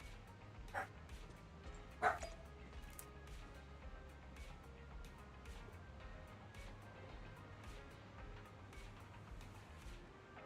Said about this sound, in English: What are the dogs barking about?